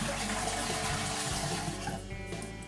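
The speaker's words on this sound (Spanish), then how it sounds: "el siguiente paso es vaciar la cisterna" Water drains out of an emptied toilet cistern after the shut-off valve is closed and the supply hose disconnected, a steady close rushing flow that thins slightly toward the end, with no voices.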